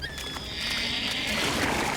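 Cartoon horses whinny and neigh in a high, wavering call over a steady background of hoofbeats and rumble, as riders in an animated series flee an approaching fire.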